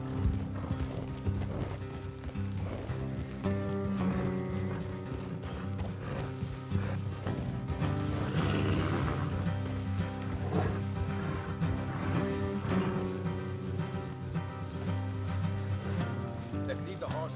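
Horses' hooves clip-clop steadily through a Red Dead Redemption 2 scene, a moderate plodding rhythm partly buried under continuous background music and ambience.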